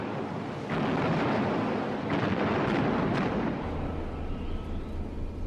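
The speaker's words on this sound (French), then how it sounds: "Les obus de gros calibre pleuvent sur le pont du navire allemand" Heavy-calibre shells explode on the deck of a German battleship at sea, a dense, roaring rumble of booms that swell and overlap into sustained thunderous noise.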